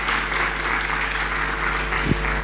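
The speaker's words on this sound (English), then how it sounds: "You can give the applause for her again if you are so led." Conference attendees at a youth event opening ceremony clap together, giving steady, even applause that holds for a couple of seconds with a low hum underneath.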